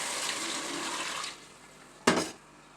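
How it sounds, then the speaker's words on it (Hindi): Hot water pours steadily into a pot of chicken curry for over a second, then a short sharp clatter of metal follows after a brief pause. "अब ये 1 बड़ा मग्गा ये पानी का मैं डालूँगी,"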